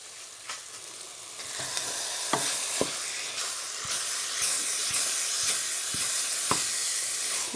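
Pondu (cassava leaves) frying in a pot gives a continuous close sizzle and hiss, broken by occasional sharp clicks of a spoon stirring against the pot.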